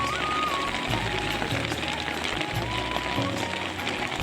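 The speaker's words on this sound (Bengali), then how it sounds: "প্রচণ্ড বৃষ্টি হচ্ছে" Heavy rain drums on a car stopped on a road, heard from inside as a dense, steady patter with faint thuds and tones mixed in.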